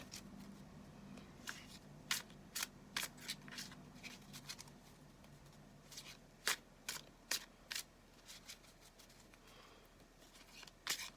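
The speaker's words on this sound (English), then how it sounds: "I'm going to just shuffle them a bit more" A deck of cards shuffled by hand in repeated crisp riffling bursts, close and clear, spread irregularly over a quiet room with no speech.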